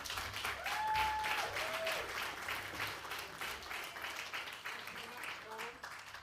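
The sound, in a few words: audience applause for speaker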